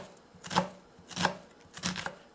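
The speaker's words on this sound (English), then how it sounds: "Nice fine dice on the onions." A kitchen knife dices onions finely on a cutting board, three soft clusters of quick chops spaced about half a second apart, close and fairly quiet, with no voices.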